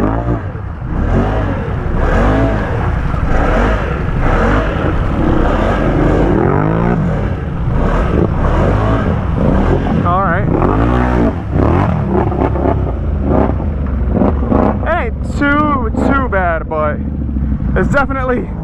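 A truck on huge Assassinator tires creeps through mud, its engine droning and revving loudly and continuously, with people talking over it.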